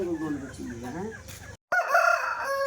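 A Salem rooster crows loudly nearby, a long wavering call, then after a brief break another rooster crows again.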